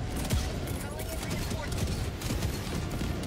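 Mortar fire from Automaton enemies in the video game Helldivers 2, heard as a dense run of rapid thumping blasts at steady volume, mixed in with game noise.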